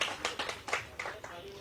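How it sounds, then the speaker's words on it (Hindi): A handful of faint, rhythmic claps sound at a political press conference in Jaipur, a brief smattering of applause under a speaker's voice. "इसके बाद ताली रहने दीजिए"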